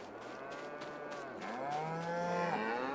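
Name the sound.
cows mooing in Farming Simulator 22 video game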